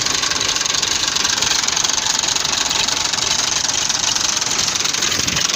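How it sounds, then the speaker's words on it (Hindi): A tractor engine, freshly repaired and serviced, idles close by in a village with a constant, dense, rumbling chug and a steady knocking rhythm that stays level throughout, with no voices. "माशाल्लाह ट्रैक्टर बनवा लिया है, सर्विस भी हो गई है।"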